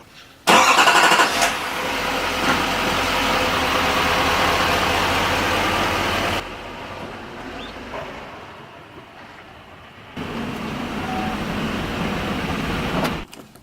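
A pickup truck starts up and runs loud and close for several seconds while being backed into a garage, then the engine cuts out, leaving quiet shuffling before another steady burst of engine noise returns near the end.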